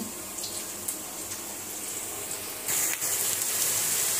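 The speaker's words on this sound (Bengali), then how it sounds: "এখানে আবার মাংস ধুয়ে রাখছি" Raw meat is rinsed under a running kitchen tap, a steady hiss of flowing water that grows stronger and brighter near the end, with small splashes and clinks against the bowl.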